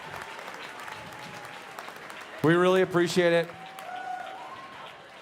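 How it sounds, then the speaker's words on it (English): Audience applause for an artist at a photography center's benefit gala, a steady crowd clapping that runs throughout while someone speaks over it at close range. "Would you give Erica a huge round of applause?"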